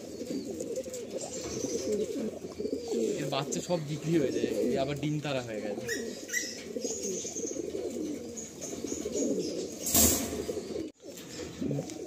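A rare Kashmir Doma pigeon coos repeatedly in a loft in Garia, Kolkata, with a brief flutter of wings, while someone talks steadily over the birds close by.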